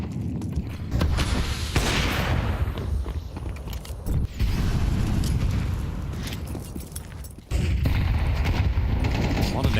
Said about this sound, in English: Nice shooting from Sunpius.